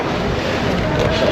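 Strong cold gusting wind in Kyoto, Japan, buffeting the microphone with loud continuous rumbling roar and no pause.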